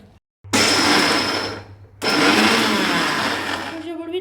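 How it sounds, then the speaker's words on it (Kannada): A kitchen mixer grinder grinds ingredients for goli palya in two loud, steady whirring bursts, separated by a short pause, with faint voices at the very end. "ಇದಕ್ಕೆ ಮಿಕ್ಸರ್ ಮಾಡ್ಕೋಬೇಕು"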